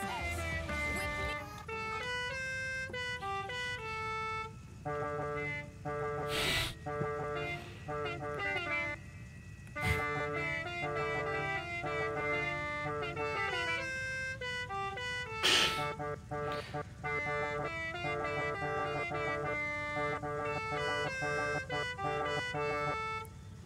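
Car horns from the racing game Forza Horizon 5 ring out in a run of musical, tune-like honks and melodic jingles, varied and repeated, broken by a few short sharp bursts.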